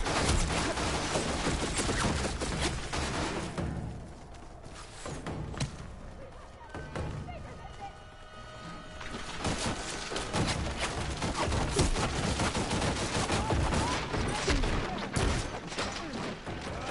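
Sustained gunfire in the video game Horizon Forbidden West, a dense loud barrage of shots and thuds with a brief lull in the middle, mixed with game sound effects and occasional voices.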